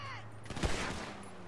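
Pistol fire in GTA V: a sharp, loud shot bursts out around mid-clip over a steady hum of game background, then the noise tails off.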